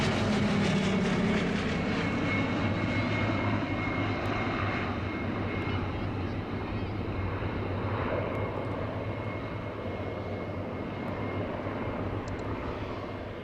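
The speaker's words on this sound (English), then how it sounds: "That's the Blenheim. Only one flying in the world." A Bristol Blenheim, a twin-engine aircraft, flying with a loud, steady engine drone that carries on without a break throughout and shows only slight swells in tone.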